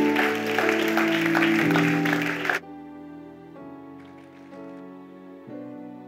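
A church congregation applauds the Lord in a loud, steady wave of clapping that suddenly cuts off, leaving sustained organ or keyboard chords ringing on alone.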